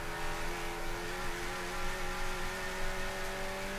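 A race car at Summit Point's big bore race charges uphill in 4th gear after the carousel, its engine holding a steady, loud drone with sustained harmonic whine and light roar throughout, no voices.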